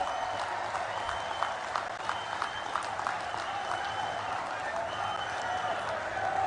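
A large crowd in Andhra Pradesh applauds the Prime Minister, a continuous, fairly faint wash of distant clapping that stays even throughout, with a faint voice audible over it.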